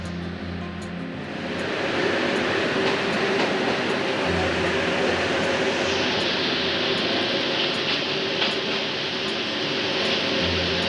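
Jamalpur Express train at night on the Mymensingh to Dhaka run, arriving at Gafargaon railway station: a loud, continuous rumble of wheels and carriages with a broad hiss that brightens partway through, heard from on board.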